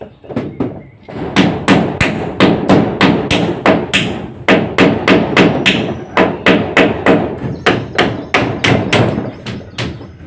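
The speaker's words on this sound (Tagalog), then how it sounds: "Ipako muna itong pala sa taas." Nails being hammered into a shovel at a bamboo house build, steady close hammer blows in a regular rhythm of about two strikes per second, loud and alone.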